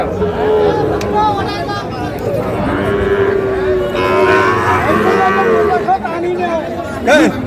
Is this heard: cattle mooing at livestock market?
yes